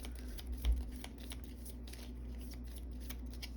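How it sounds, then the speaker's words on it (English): A deck of cards is shuffled close by, a soft riffling patter with one brief thump, quiet over a low hum. "we'll create the holding cell deck. So I'll shuffle these"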